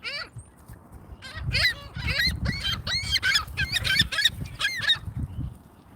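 Seagulls nearby give loud, harsh squawks and honking cries, repeated in quick overlapping bursts against an outdoor background rumble.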